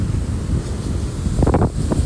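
Large ocean surf on an Australian Gold Coast beach, a steady wind-blown rush with a few louder wave crashes breaking near the end.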